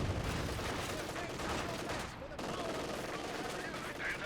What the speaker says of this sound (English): Number of shots on the Panther are currently coming on in and forces the Panther back